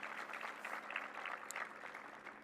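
A crowd at a presidential speaking event claps steadily, a soft sustained patter of applause heard from a distance.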